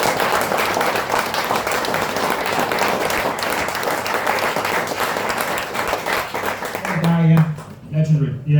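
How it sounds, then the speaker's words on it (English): A packed audience at an evening talk in a surf cafe gives a sustained round of applause in memory of Sir Bobby Robson, dense and fairly loud, with a voice speaking over it as it fades near the end. "I think it's a round of applause for Sir Bobby today."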